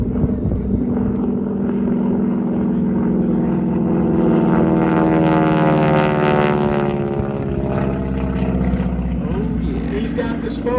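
A North American SNJ single-engine propeller aircraft passes loudly at a World War 2 airshow, its rasping, rapping drone from supersonic propeller tips swelling to a peak midway and then fading as it pulls up.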